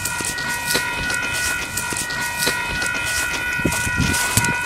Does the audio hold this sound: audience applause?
no